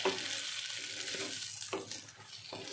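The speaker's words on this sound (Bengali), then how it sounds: "এখন চিংড়ি মাছ ভাজা চলছে" Shrimp fry in plenty of oil with a dense, close sizzle and a few quick clatters of stirring, continuous and unaccompanied by speech.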